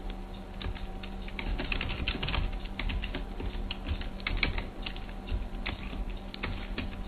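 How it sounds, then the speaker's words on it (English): Steady rapid typing on a computer keyboard while writing a Unity game script, dense clicking keystrokes close up and continuous throughout with no talking. "bear with me by typing it all in"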